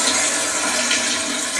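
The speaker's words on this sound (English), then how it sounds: "we're going to have to flush the toilet" A toilet flush sound effect: a loud, continuous rush of swirling water that fills the moment with no voices.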